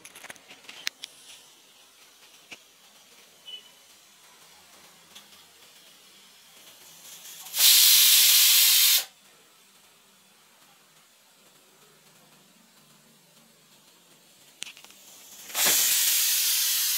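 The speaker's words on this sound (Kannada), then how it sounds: "ಇದಕ್ಕೆ ನೀವು 2 ಸೀಟಿ ತೆಗಿಬೇಕಾಗುತ್ತೆ।" A pressure cooker cooking crab lets out two loud, sustained steam whistles, each a broad hissing blast of a second or more, separated by quieter kitchen background with no talking.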